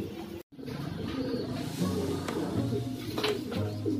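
A racing pigeon coos in low, repeated throaty phrases close by, several rolling calls in a row with a brief gap near the start.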